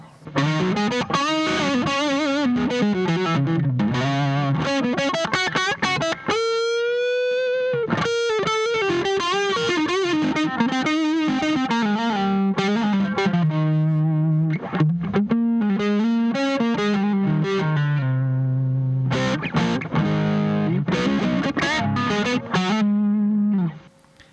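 A distorted Telecaster electric guitar on its neck pickup, with a warm, rounded tone, plays a continuous lead line with bends and sustained notes, loud and up close.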